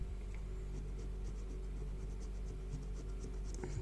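A coin scrapes steadily across an FDJ lottery scratch card in quick, soft, repeated strokes, close and quiet over a low steady background hum.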